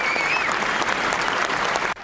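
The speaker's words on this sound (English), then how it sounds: "President Obama entered the House chamber to rousing applause" Lawmakers in the House chamber break into rousing applause for President Obama's entrance before the State of the Union address, loud continuous clapping that cuts off abruptly at the end, with a faint whistle-like tone early on.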